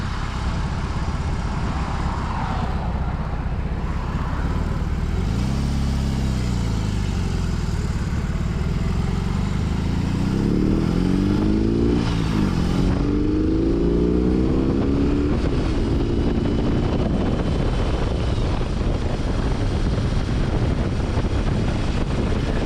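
A BMW R18C motorcycle rides along a rough road, its engine a loud, continuous low rumble with rising and falling revs under steady wind noise.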